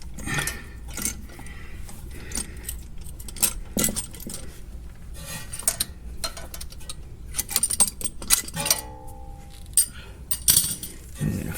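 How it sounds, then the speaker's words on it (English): Metal C-clamps clink and rattle as they come off a Lexus GS front brake caliper, with scattered close metallic clicks and knocks, including a brief ringing tone near the end. "you can go ahead and take your C-clamps off"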